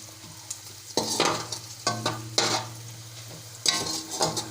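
Onions frying with whole spices (cumin, cloves, cinnamon, curry leaves, black cardamom) for chicken tikka BBQ biryani sizzle steadily as they are stirred, with repeated scraping bursts of a spoon against the pot over a constant low hum.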